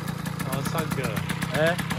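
A Peugeot 103 moped engine idles too high, its steady low drone running under close conversation throughout.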